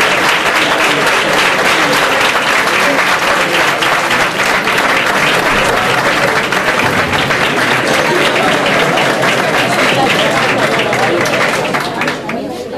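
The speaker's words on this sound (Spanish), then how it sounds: "Vamos a darle su fuerte aplauso." Audience at an Andalusia Day celebration at the Casa Andaluza de Leganés breaks into loud, sustained applause with cheering and crowd chatter, tapering slightly at the end.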